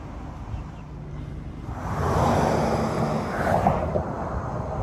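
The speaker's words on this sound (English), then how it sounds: "This here is the Withlacoochee River, the source of today's flooding." Steady rushing water and gusting wind at the flooded Withlacoochee River in Florida after a hurricane, a broad wash of noise that swells midway and carries buffeting wind against the microphone.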